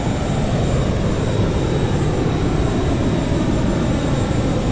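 Boeing 737-200 jet engines at takeoff power in the X-Plane 11 flight simulator give a loud, steady, broadband roar with a faint high whine, continuous throughout with no talking.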